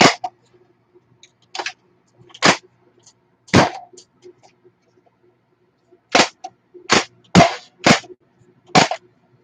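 Nerf Rival Takedown blaster firing foam balls, about ten sharp snapping shots spread irregularly across quiet gaps, close and loud with faint handling noise between.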